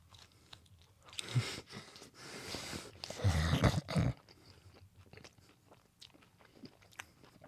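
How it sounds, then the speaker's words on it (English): Stone-baked pizza is eaten up close at a desk, with crunchy bites and wet chewing in uneven bursts, loudest in the middle, with soft breathing between mouthfuls. "My ASMR pizza eating exercise"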